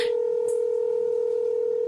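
A telephone sounds one long, steady electronic tone held for about two seconds, loud and close, cutting off abruptly at the end, with no speech.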